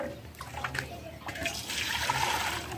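Water is poured into cooking pots, a close, rushing splash that swells toward the end, with no clear speech over it.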